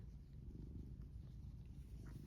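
A cat named Rhaegar purrs steadily and close, a soft continuous low rumble with a gentle rhythmic flutter and no other sound.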